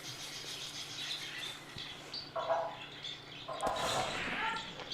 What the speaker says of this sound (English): Oh, parrots.